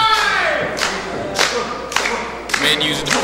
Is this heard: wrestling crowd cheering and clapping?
yes